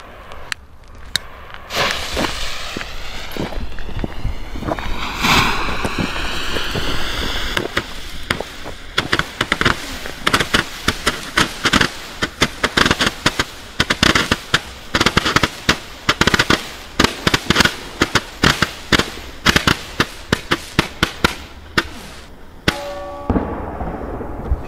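A Weco comet battery firework, a 100-shot cake, fires off a long rapid series of loud launches and crackling bursts, the shots coming in dense volleys that turn into a steady string of sharp bangs before tapering off near the end.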